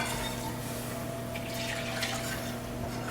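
A steady, close, liquid pour as warm milk streams into a stovetop sauce while it is whisked, with a continuous watery hiss and no speech.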